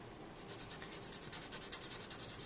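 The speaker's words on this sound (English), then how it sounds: "First thing you want to do when you're using a colored pencil to color in a solid shape" Colored pencil rubbed over paper to fill in a solid shape on a mandala, a close, steady rhythm of quick scratchy back-and-forth strokes that starts after a short pause and continues with no voices.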